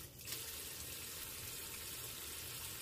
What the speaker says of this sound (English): So I will take a little bit of warm water and just like lightly go over